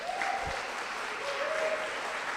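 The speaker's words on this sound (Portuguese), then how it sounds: "Você pode aplaudir ao Senhor por isso?" Steady congregational applause at a church service, a dense wash of many hands clapping continuously at moderate level, with a faint voice briefly sounding through.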